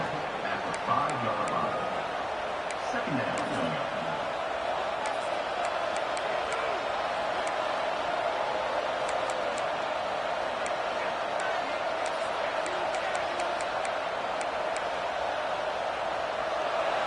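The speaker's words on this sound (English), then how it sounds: "The roar of the crowd trying to fuel this defense to keep them pinned in their own end." Steady stadium crowd roar from a College Football 26 video game matchup, Auburn Tigers at home, a broad continuous wash of noise holding loud and even throughout with faint chatter mixed in.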